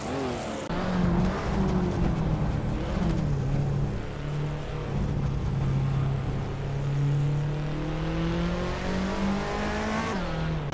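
Race cars in a racing video game, one engine droning steadily loud and close with rising and falling pitch as it shifts and accelerates, other cars blended in, continuous throughout.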